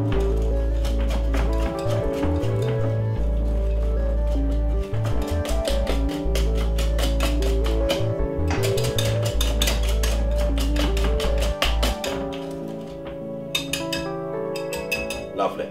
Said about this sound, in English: I'm just gonna use my whisk and give it a nice little whisk